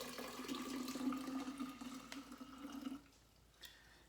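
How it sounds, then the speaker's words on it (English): Dissolved kombucha mixture is poured into a gallon jar, a close, steady liquid stream with a rising tone that stops abruptly, followed by a faint drip or clink. "After you pour that into your gallon jar"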